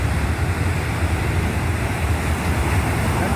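Sea waves at Shankhumukham beach make a continuous, heavy roar of surf, with wind buffeting the microphone and no distinct breaks between swells.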